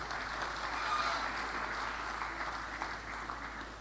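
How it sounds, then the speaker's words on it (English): Steady applause from the audience at a medical graduands' induction ceremony at a college of health sciences, a continuous even patter of clapping that holds at moderate volume throughout. "A round of applause, please"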